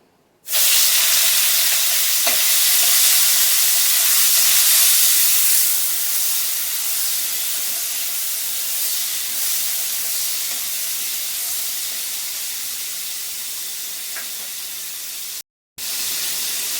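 Prawns frying in a pan for a Bengali chalta chingrir tok give a loud, steady hiss right after they drop in, slowly easing over several seconds before a brief cut.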